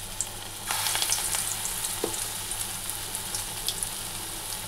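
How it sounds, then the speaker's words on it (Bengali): Lentil fritters (bora) fry in a kadai, a steady close sizzle with occasional crackling pops, with no one speaking. "ওকে কটা বড়া ভেজে দেই আগে"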